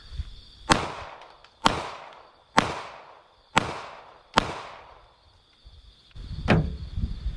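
Five loud, sharp gunshots in a slow, evenly spaced series fired at a viral TikTok toy, each with a decaying tail, followed by a duller knock and rustling.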